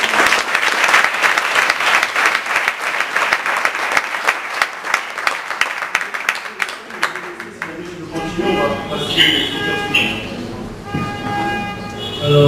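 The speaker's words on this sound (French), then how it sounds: "Ok, on peut l'applaudir, merci." A tech meetup audience on startup financing claps warmly for a departing speaker, steady full applause for about eight seconds that fades out as talking takes over.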